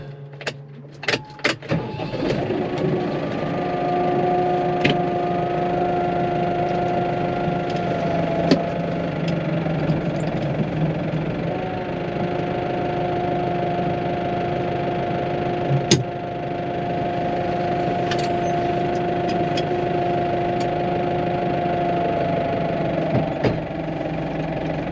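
A tractor engine runs steadily at idle on a farm, a continuous low droning hum with a few knocks and clicks at the start, holding an even level throughout with no talking.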